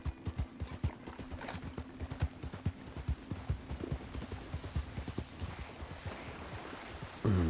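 A horse's hooves clip-clop steadily on a road in Red Dead Redemption 2, an even trotting rhythm close by under faint background hum, with a brief louder sound at the very end.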